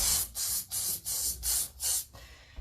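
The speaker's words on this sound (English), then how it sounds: "I prefer to use spray varnish and go" Spray varnish applied to a painting in short, even bursts: about six hissing sprays in a regular rhythm, each separated by a brief pause, close and fairly loud.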